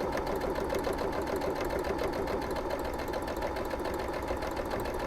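A sewing machine runs steadily, stitching a quarter-inch seam while piecing a quilt grid, its fast even needle rattle continuing close and loud without pause.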